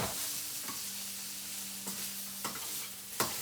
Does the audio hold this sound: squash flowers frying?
yes